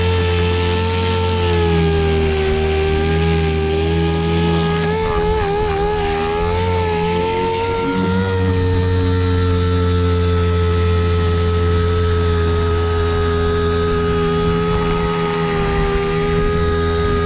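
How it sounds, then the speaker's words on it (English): An 80 grit DA sander strips paint from a car roof, giving a loud, continuous whirring drone with a steady hum and shifting pitch that lasts throughout, close by and without talking. "Doing this with 80 grit DA also gets rid of any 40 grit big wheel scratches"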